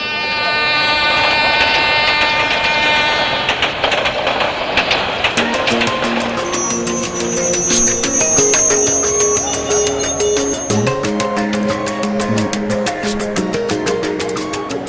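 A train pulling into a railway station, with loud continuous rumbling and rhythmic clicking of wheels over the rails. A horn-like tone comes in partway through, heard close and dominant throughout with no talk.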